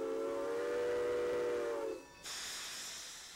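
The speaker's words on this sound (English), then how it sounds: "With a blast from the whistle and a rush of steam" A loud, sustained steam locomotive whistle on the Texas State Railroad blows for about two seconds, then cuts off and gives way to a strong rush of hissing steam that slowly fades.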